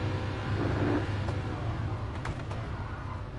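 A 1970s Italian Ferrari sports car in the Gran Turismo Sport video game revs its engine, a faint, steady rasping drone with a few brief sharp bursts, heard alone without voices.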